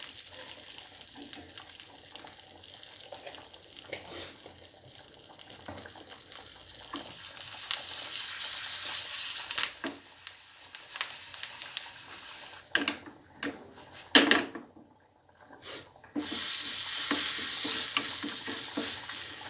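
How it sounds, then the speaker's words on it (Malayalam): Quiet sizzling and stirring as sambar powder fries in hot oil in a pan, with scraping strokes through the first half, the burner already off, and a brief lull near the end before the hiss returns. "നമ്മുടെ സാമ്പാർ പൊടി കൂടി ഇട്ട് കൊടുക്കുക"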